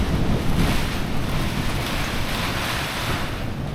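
Storm Eowyn's strong wind roars steadily around a home, a loud, dense rushing that buffets the microphone without letting up.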